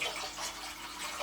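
Water poured together from two containers in a thermal physics classroom demonstration, a brief soft broadband splash and trickle lasting about a second, fairly quiet and alone.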